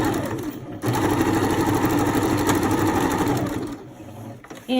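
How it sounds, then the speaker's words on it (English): A sewing machine runs a straight stitch on fabric for a crib sheet, a steady rapid mechanical whir close up that starts abruptly and stops near the end with a short whirring burst after. "So then I do a straight stitch again."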